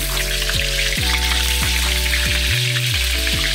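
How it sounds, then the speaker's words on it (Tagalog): Eggplant sizzles loudly in hot oil in a pan for kare-kare, a steady, dense frying hiss, with a low droning hum and tones running underneath. "Yung talong muna, piprito natin."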